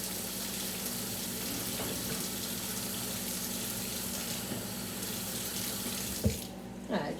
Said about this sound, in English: just add a little bit of hot water to it.